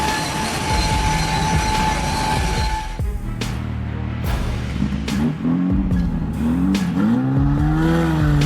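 Train rushing toward a truck stuck on the tracks, heavy rail rumble and wheel noise building, then shifting to a loud roar with rising and falling horn-like tones as it nears.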